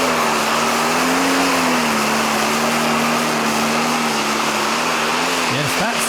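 A John Deere pulling tractor roars at full load through a full pull at a European tractor pulling championship in Norway, a loud, sustained engine drone with a steady pitch that dips and wobbles at the very end.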